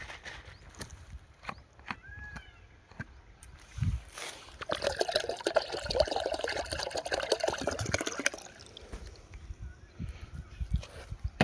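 Water sloshes and splashes inside a pesticide sprayer pump tank as it is shaken outdoors, a burst of liquid churning in the middle after scattered knocks and rustling, fading back to quiet handling sounds.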